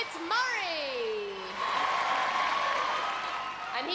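A Gladiators studio audience from 1995 breaks into loud applause and cheering, opening with a few rising and falling whistle-like shrieks before a dense, steady wall of crowd noise fills the hall.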